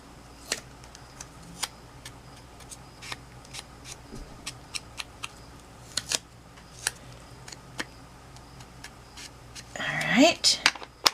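Scissors cut paper and card for a BoBunny Farmers' Market scrapbook mini album, with sparse crisp snips close by at irregular intervals, then a brief burst of rustling handling near the end.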